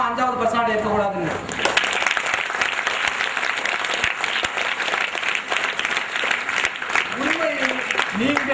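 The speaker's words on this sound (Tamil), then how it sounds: "நீங்கள் தட்டும் அந்த கைத்தட்டை" An audience breaks into sustained, dense applause after an inspirational speech. It rises out of a speaking voice and continues loud and steady for several seconds before talk resumes near the end.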